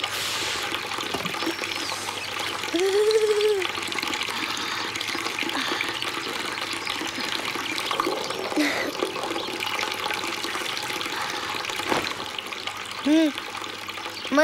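Tap water runs steadily from a faucet while a child brushes their teeth at home in an animated Hindi film, a continuous close wash broken by a few brief vocal sounds.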